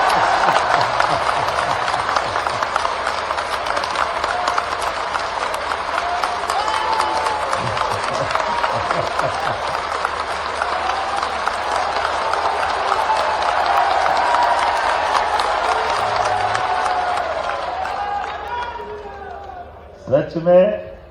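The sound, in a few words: audience applause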